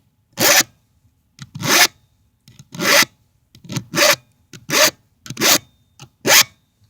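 A round file is pushed across the teeth of a Stihl chainsaw chain to sharpen it, giving seven or eight separate close scraping strokes with brief silent gaps between them and no voices.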